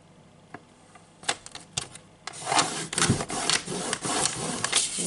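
Paper being folded and creased by hand for a photo album: scattered sharp taps at first, then a sustained run of rubbing and scraping as the fold is pressed flat, fairly close and loud, with no speech.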